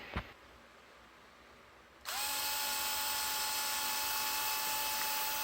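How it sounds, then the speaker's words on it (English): A brief click sounds first, then after a short pause an electric screwdriver whines into a loud steady high-pitched spin, removing a cover on a Redcat Rampage MT RC truck. "Electric screwdriver. If you ain't got one, you need to get one."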